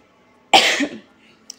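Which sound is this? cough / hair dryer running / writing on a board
cough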